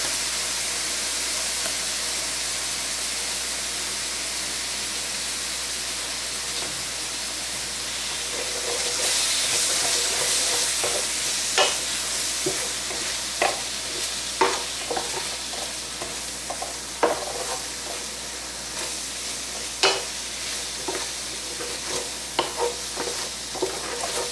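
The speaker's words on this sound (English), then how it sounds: "next in goes the brown sugar, the sherry vinegar, and our ribbon of anchovy paste" Sauce of brown sugar, sherry vinegar and anchovy paste for Swiss steak simmers with a steady close hiss and sizzle, with scattered sharp clicks and scrapes of stirring in the second half.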